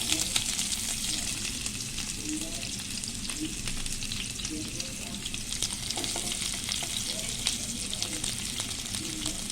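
Green chillies and onion sizzling steadily in a pan for a puffed rice dish, a continuous close hiss of frying with occasional faint stirring and no talk.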